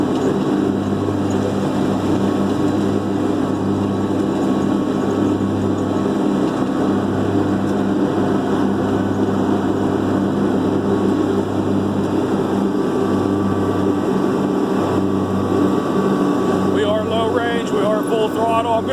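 A Kubota B2650 compact tractor with an FDR2572 mower deck labours up a steep hill, its diesel engine droning loud and steady at held throttle with a constant low hum, and a brief rattle near the end.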